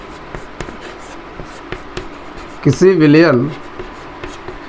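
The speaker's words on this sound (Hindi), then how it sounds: "तो यहाँ पर लिखेंगे किसी" Chalk or marker strokes on a board during a Class 12 chemistry lesson on solutions, a few short scratchy taps, with a teacher speaking briefly over them.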